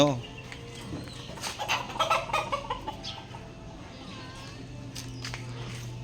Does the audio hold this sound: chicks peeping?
yes